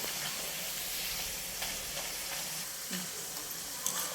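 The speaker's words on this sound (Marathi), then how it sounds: "आणि केळीचे वेपर्स हे पौष्टिक कडक होईपर्यंत पाच दहा मिनिटं चांगले तळून घ्यायचे" Banana slices deep-fry in hot oil for fasting-day chips, a dense steady sizzle with crackling bubbles heard close and loud throughout, no voices.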